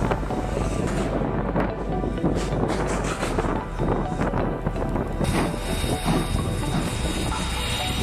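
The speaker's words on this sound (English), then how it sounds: "The Strasbourg Railway Snow Plow, with its sturdy design and powerful engine, is on a mission to clear snow from the railway lines." Strasbourg railway snow plow train clearing snow from the tracks, heard as a steady, dense roar of rail noise and rushing hiss with wind buffeting the microphone, continuous and fairly loud throughout.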